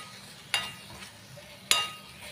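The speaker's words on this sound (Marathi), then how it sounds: "शेवगा परतून घेऊ चांगलं." Drumstick (moringa) pieces being sautéed in hot oil for a spicy curry, with two sharp utensil scrapes against the pan over a low, steady sizzle; no talk.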